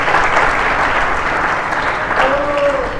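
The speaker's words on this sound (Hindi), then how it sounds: "जोरदार तालियों से स्वागत करेंगे उनका" A large audience applauds warmly at a spiritual discourse, steady sustained clapping filling the hall, loud and even, with a faint voice briefly audible near the end.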